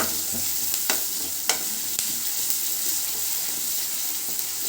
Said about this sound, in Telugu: ఇప్పుడు బాగా ద్వారగా వేయించుకోవాలి.